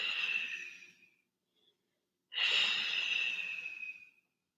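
Two long, soft breaths drawn through the nose and released during a slow yoga flow, close and quiet, separated by a brief pause, with no one speaking.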